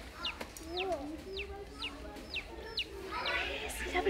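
Baby chicks and ducklings at a farm give a steady run of repeated, high, falling peeps and chirps, close by and moderately loud, while people talk softly in the background.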